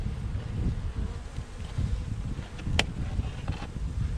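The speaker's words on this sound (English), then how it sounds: "there's too many bees in here" Honey bees swarm and buzz around an open beehive in an apiary, a dense, continuous droning hum with wind rustling in the background and occasional individual bees passing close to the microphone.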